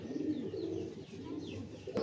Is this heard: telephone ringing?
no